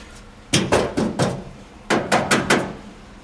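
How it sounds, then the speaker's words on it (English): Knocks and taps on the loose front valance of a 1969 Mercury Monterey sound as two quick bursts of three or four sharp metallic raps, fairly close and clear, with brief quiet between. "we need to find the rattle in this valance"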